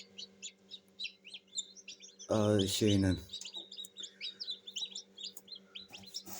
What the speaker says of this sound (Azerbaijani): o çıxacaq dediyim cücə də çıxdı